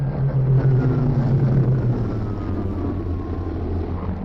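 Aircraft of a flight become airborne in a 1939 wartime setting, giving a steady propeller-engine drone that is loudest at the start and fades slightly as the planes climb away.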